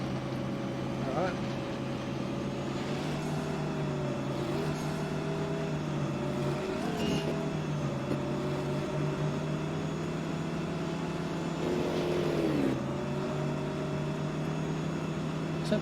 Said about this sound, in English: We can hear that engine rev the whole time.